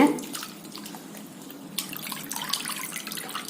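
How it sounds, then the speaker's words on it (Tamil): Water splashes and trickles as coriander leaves are swished and rinsed, with a brief louder splash at the start and soft running water after. "இப்ப நல்லா தண்ணியில் அலசி எடுத்துக்கலாங்க"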